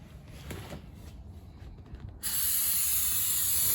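An aerosol spray can sprayed into a Camaro trunk pan in a garage, a loud, steady, close hiss starting abruptly after a few faint rattles and shuffling noises, then continuing evenly.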